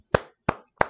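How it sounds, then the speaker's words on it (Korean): Three separate, sharp claps spaced evenly about a third of a second apart, each one a crisp single hand clap heard close and alone rather than the sustained applause of a crowd. "이건 박수예요"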